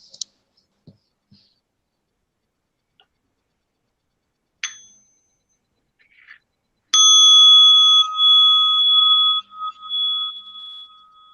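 A meditation bell struck once at a mindfulness gathering, a bright sustained ring that hangs and slowly decays alone in a quiet room after a few soft taps and rustles.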